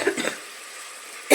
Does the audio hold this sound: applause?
no